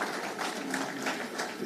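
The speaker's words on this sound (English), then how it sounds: "A big round of applause for the professor" An audience applauds a professor at the end of a talk, a faint, steady wash of many hands clapping at a distance with no clear pauses.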